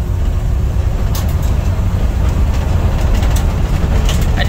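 A 1990 Dodge Grand Caravan LE drives down the road, heavy steady low road and engine rumble from inside the cabin with faint light rattles and clicks throughout.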